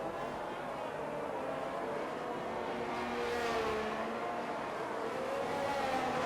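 Race car engines in a racing game at the Portugal round, a continuous roaring drone that swells slightly as cars round the final corner, with faint commentary voices beneath.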